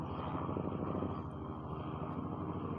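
Steady low droning engine rumble of a helicopter or airplane passing slowly overhead at low elevation, continuous and fairly loud throughout, with no voices.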